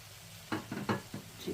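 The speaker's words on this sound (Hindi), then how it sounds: "ये मैं जूलियंस डाल रही हूँ अदरक की" Ginger juliennes dropped onto a hot tawa alongside kebabs give a few short bursts of sizzling and stirring scrapes, close and moderately loud, about five quick strokes in a row.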